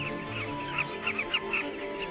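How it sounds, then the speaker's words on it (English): A flock of carmine bee-eaters gathering to breed in Zambia's Luangwa Valley gives a dense chorus of repeated chirping calls over steady background noise, with no talking. "carmine bee-eaters travel hundreds of kilometers from South Africa, the Congo and Tanzania to gather in the Luangwa Valley to breed"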